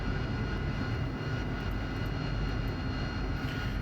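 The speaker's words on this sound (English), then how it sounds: "you'll apply power, and she'll just pop off the ground pretty quick" A steady, dense engine roar fills the clip as an AV-8B Harrier jet spools up power for takeoff in the DCS combat flight simulator. It is loud and continuous with no voices.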